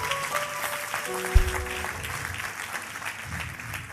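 A church congregation breaks into broad, sustained applause with scattered cheers, a dense wash of clapping that fills the room and continues steadily throughout.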